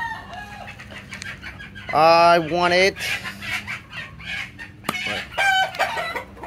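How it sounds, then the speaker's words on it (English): Gamefowl roosters and chickens on a farm, a near rooster crowing loudly with a rising, wavering call amid scattered clucks and squawks, while a person speaks briefly over the birds. "chickens are getting kind of crazy."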